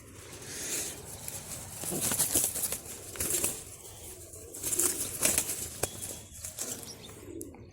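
Irregular bursts of white pigeons' wings flapping and fluttering as they are released, close and moderately loud, coming in clusters with quieter gaps between.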